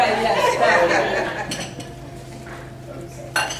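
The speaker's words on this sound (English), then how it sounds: "And we're putting it in the oven now." A dish of buffalo cauliflower goes into a makeshift oven with a clatter of cookware, a few sharp clinks and scrapes, and a voice talking softly in the background.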